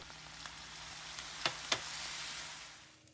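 Minced beef sauce for cottage pie stirred in a pan, a steady low sizzle broken by two sharp spoon taps against the pan, quiet and close, with no voices.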